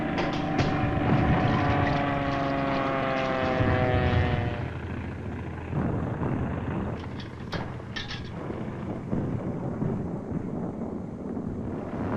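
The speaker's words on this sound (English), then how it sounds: "Enemy aircraft approaching." Enemy aircraft approaching in a 1945 war film, a loud droning propeller-engine roar with rising whine that fills the first seconds, then eases into a softer, rougher rumble with wind-like noise.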